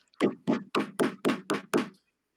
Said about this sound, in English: I stand up and walk over and begin to pound on Bronson's door.